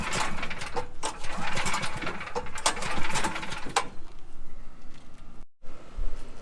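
A generator that has sat unused and won't start is pull-started several times. The recoil cord gives a run of rattling, ratcheting bursts that die away without the engine catching, leaving quieter background noise.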